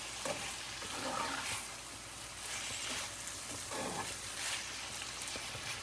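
Soyabean chilli with coriander being stirred in a hot pan, a steady oily sizzle with repeated scraping strokes of the spoon, close and continuous with no talk.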